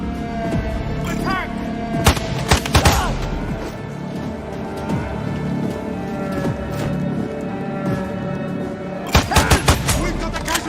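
Sniper rifle gunfire in Sniper Ghost Warrior Contracts 2, sharp loud cracks scattered across the scene with a tight cluster of shots near the end, over ambient game noise and brief radio-style voices.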